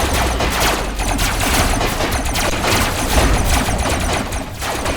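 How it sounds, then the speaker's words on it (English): Rapid, sustained weapon fire from a plasma cannon in the Robocraft robot combat game, a dense stream of loud crackling blasts and booms with no pauses across the whole stretch. "He's using a damn plasma cannon."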